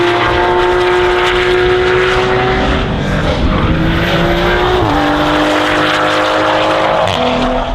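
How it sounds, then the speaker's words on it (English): Several race cars run laps on a circuit, their engines a loud, continuous roar with shifting pitch as they rise and fall through the gears, filling the whole stretch with no talk. "Let's check out all the cars that are on track right now."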